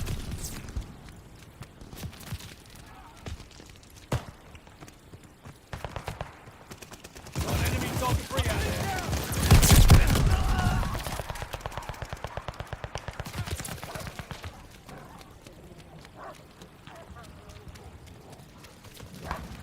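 Gunfire in the Call of Duty Vanguard shooter, a dense burst of shots peaking mid-clip amid rapid impacts and battle noise, with scattered sharp reports before and after.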